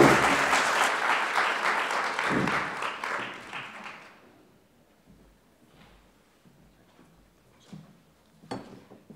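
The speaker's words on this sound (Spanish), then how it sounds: "démosle un grandísimo aplauso para darle la bienvenida" Audience applause welcoming the speakers at a lecture on blood ceremonies and human sacrifice in northern coastal Peru, loud dense clapping for about four seconds that fades out, followed by quiet room noise and a few soft knocks.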